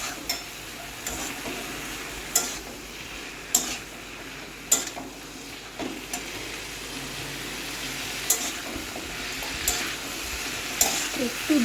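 Malabar spinach stir-fried in spices: a low sizzle runs throughout, broken by sharp, regularly spaced scrapes and clacks of a spatula against the pan, with no talking.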